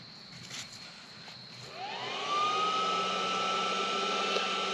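A Bolt Buster induction heater heats a stuck bolt, rising from low background hum into a steady, loud high-pitched whine that holds continuously to the end.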